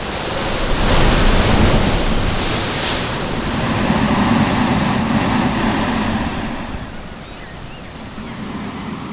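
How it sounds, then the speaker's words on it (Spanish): Stormy ocean off South Georgia, with heavy waves surging and breaking in a loud, continuous roar, swelling and easing as strong wind gusts over the water. "Vientos furiosos la barren constantemente y un océano helado, el más tormentoso del mundo"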